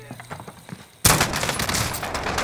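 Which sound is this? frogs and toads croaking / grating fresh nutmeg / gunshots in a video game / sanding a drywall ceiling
gunshots in a video game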